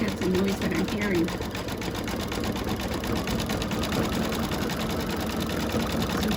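A sewing machine runs continuously with a fast, even mechanical stitching rattle, its bobbin nearly empty and due for changing, heard close and steady throughout.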